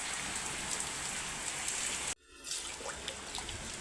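Heavy rain falls suddenly in a village, a dense, loud patter on surfaces that cuts out briefly and then returns just as steadily.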